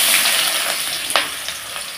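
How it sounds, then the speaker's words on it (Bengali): Chopped onions dropped into hot oil already tempered with bay leaf, garam masala and dried red chillies for a mutton curry, giving a loud close sizzle and crackle with a brief splash, and no speech. "এখন দিয়ে দেবো পেঁয়াজ কুচি"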